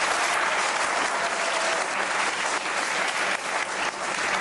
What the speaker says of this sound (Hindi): पैनल के लिए बहरहाल एक ताली बनती है।